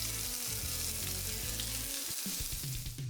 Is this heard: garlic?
yes